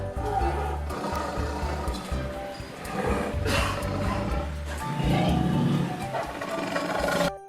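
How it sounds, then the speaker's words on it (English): A tiger roars and snarls loudly in long, rough, rumbling bursts with breathy growls between them, filling the whole stretch before cutting off abruptly. "This is a tiger."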